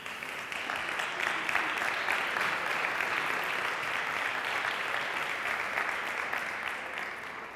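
Steady, dense applause from a gala audience at a youth arts event in Aragón, continuous and fairly loud throughout with no talk over it.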